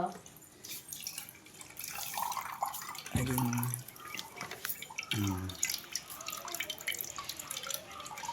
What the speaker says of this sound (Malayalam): നമുക്ക് ജ്യൂസ് അല്ലെങ്കിൽ ഇങ്ങോട്ട് ഒഴിച്ചു കൊടുക്കാം